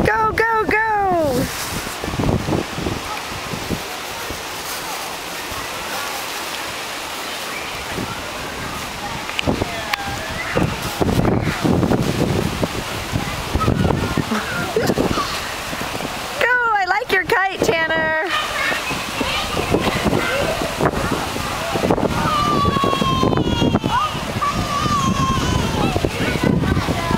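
Wind gusting outdoors during a preschool kite flight, a steady broadband rush that swells and fades, with young children's voices and adult talk heard over it throughout.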